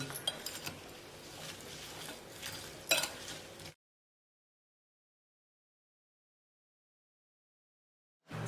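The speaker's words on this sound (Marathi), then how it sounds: "एक चमचा लाल मिरची पावडर ही एक चमचा हळद याला आता चांगलं मिक्स करून घेऊ" Spoon clinking against a metal or glass bowl while red chilli powder and turmeric are stirred for lemon chilli pickle, close light scraping and taps that stop abruptly into silence.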